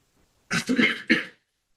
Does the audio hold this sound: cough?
yes